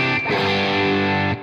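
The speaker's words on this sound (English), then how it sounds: "Turn on the most distortion." An electric guitar on its bridge pickup, driven through a distortion pedal turned all the way up, rings out a single sustained, saturated chord, loud and close, before it is cut off.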